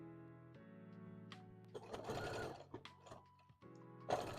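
A sewing machine stitches a plushie pattern for an owlbear toy, running in short bursts with pauses as the fabric is pivoted, a close, clattering motor hum that stops and starts.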